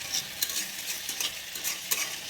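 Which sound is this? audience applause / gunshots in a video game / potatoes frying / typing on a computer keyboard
potatoes frying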